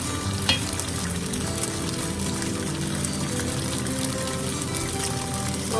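Garlic frying in a pan, a dense, steady sizzle and crackle heard up close throughout, with occasional stirring clinks and spits and no talking.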